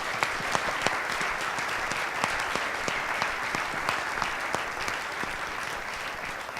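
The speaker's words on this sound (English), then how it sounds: "please give him a round of applause" A room full of people at a military community gathering claps for an honoree, steady dense applause that holds at an even level throughout, with no voices rising above it.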